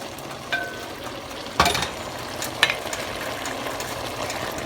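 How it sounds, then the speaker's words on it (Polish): Steady crackling sizzle of homemade sausage frying in hot fat for bigos, with a few louder pops and clinks of a utensil stirring. "Wrzucamy kiełbaskę razem z tym tłuszczykiem."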